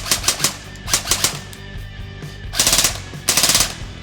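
An airsoft gun fires several short full-auto bursts on a 9.6 volt NiMH battery, rapid mechanical chattering close by, with gaps between bursts and a faint motor whine trailing off.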